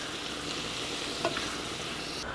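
Chicken for lettuce wraps stirred and tossed in a hot pan, a steady close sizzle and frying hiss with a brief scrape of the utensil partway through, no talking.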